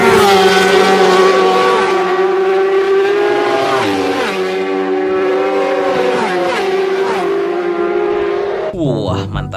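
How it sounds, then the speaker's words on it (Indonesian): A racing motorbike engine revs loud and close, its whine rising and falling in pitch through repeated throttle sweeps before cutting off abruptly at the end. "Di sini ada motor balap."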